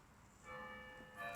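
Church bells in a video game ring out briefly with a bright metallic toll, faint and short, over a soft backdrop of game ambience.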